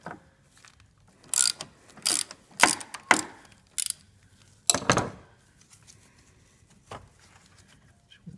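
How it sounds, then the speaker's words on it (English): A ratchet loosens the battery terminal on a 2012 Chevy Equinox AWD 2.4L, heard as several short bursts of crisp clicking close up, separated by quiet pauses. "disconnect the battery terminal here"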